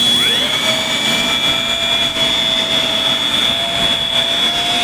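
A Festool ShineX polisher whirs steadily at speed setting 4 while polishing the skin of an airplane, a loud, close, continuous high whine with no talking.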